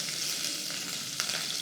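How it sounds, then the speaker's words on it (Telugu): Green chillies and urad dal frying in hot oil for a drumstick curry give a steady, close sizzle with a few sharper crackles and pops near the end. "ఈ పప్పులు వేగగానే 2 పచ్చిమిర్చి చీరేసాము"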